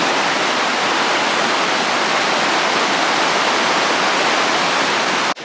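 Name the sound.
creek water flowing beside a hiking trail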